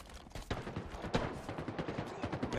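Rapid gunfire from a shooter video game, a busy cluster of sharp cracks and bursts at moderate loudness, overlapping shots crowding a few seconds with no talking.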